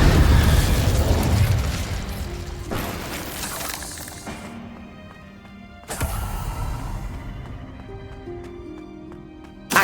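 Fire spell blasts from Hogwarts Legacy, with a loud roaring burst at the start, then further sharp whooshing detonations around three and six seconds. Between them come crackling debris and ringing tones.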